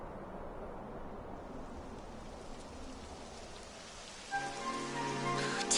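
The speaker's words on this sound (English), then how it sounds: "It would have to go and start raining, wouldn't it?" Rain beginning in a Dragon Quest game, a steady hiss of falling rain and droplets that swells near the end as a musical tone enters.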